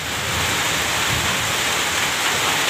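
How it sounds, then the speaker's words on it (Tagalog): Steady rain falls outdoors under a dark sky with thunder around, producing a constant broadband hiss of drops hitting surfaces, fairly loud and even throughout. "Hindi naman ganong kalakasan ng ulan"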